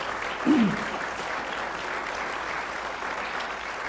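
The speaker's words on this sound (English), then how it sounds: "give him a round of applause for coming" An audience claps steadily throughout, a dense continuous applause after a brief vocal sound at the start.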